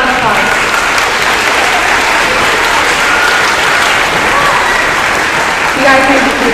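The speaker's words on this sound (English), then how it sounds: "Let's all give them a big round of applause." Audience applause at a sixth grade end-of-year awards assembly at Forest Brook Middle School, a loud, sustained, even roar of many clapping hands from a large crowd, with a voice briefly heard near the end.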